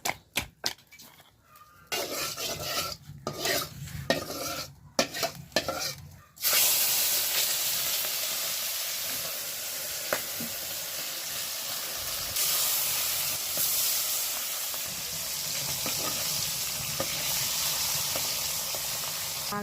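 Fish frying in a pan in a home kitchen: after a few seconds of uneven clatter and movement, a loud, steady hiss of hot oil sets in and continues evenly to the end.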